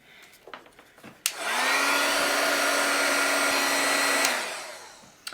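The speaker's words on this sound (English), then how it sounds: "I'm going to use my Wagner heat tool to heat this and set it." A Wagner heat tool blasts hot air to set embossing powder, switching on with a click into a loud, steady whooshing drone with a low hum, running about three seconds before cutting off.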